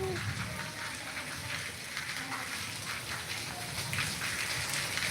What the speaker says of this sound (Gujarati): વરસાદની આપણે બહુ રાહ જોઈ ભાઈ આજે કપાસ પાવી રહ્યા અને વરસાદ આવ્યો